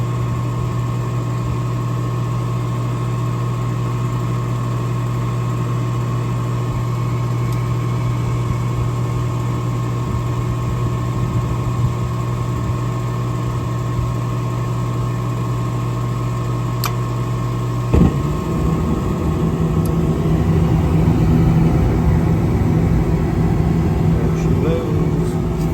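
A faulty home furnace hums steadily through its startup for about eighteen seconds, then a sudden thump marks ignition and a louder, rougher burner roar takes over, with someone talking over it.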